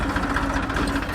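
A tractor engine chugs steadily at a constant loud drone with a faint knocking vibration, close by and with no voices over it.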